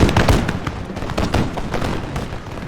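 Line infantry in the Total War Empire battle game fire a musket volley, a dense, rolling crackle of many overlapping shots that starts loud and then thins into scattered distant pops.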